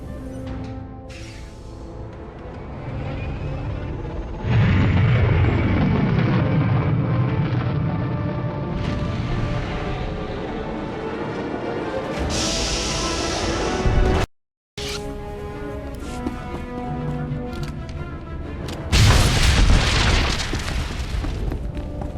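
Proton torpedo charges detonating inside a turbo laser's barrel in SWTOR on Corellia: deep booming explosions and rumbling blasts, loud and sustained, with a brief cutout partway through before more crashing bursts.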